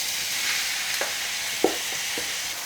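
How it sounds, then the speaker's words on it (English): Whole spices and diced onions fry in hot oil over medium heat for aloo gosht, making a steady, even sizzle with a few soft spoon taps and scrapes in the pan. "So I'm going to add my whole spices in, along with the diced onions."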